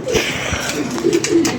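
A pair of desi pigeons coos close by, soft low throaty calls repeating in short bursts, with faint background noise around them.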